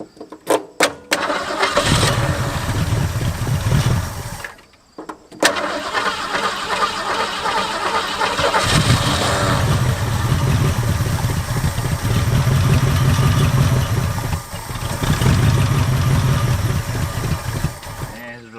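After sitting 25 years, a rusty barn-find Ford Mustang engine cranks, briefly stalls, then fires and runs with a loud, rough, uneven idle close by, with short pauses in between.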